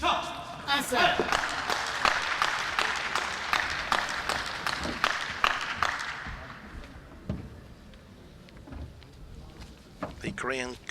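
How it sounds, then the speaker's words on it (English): Enthusiastic clapping from a coach at a women's singles table tennis final, sharp rapid claps for several seconds with crowd applause, then fading into a quieter hall as a commentator talks. "The Korean coach applauding very enthusiastically"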